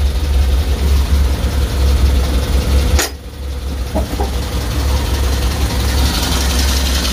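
A Suzuki Futura pickup engine idles with a steady low rumble, broken by a brief sharp click and a dip in level, then settling back into an even idle.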